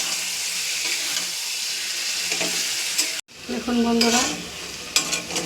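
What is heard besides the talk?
frying and stirring fish with spices in a pan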